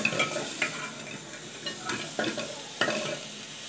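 Meat fries in a pot for yakhni soup, a steady close sizzle broken by repeated stirring scrapes and clanks of a spoon against the metal, no talking.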